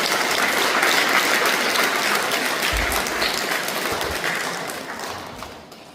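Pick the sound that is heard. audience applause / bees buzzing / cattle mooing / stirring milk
audience applause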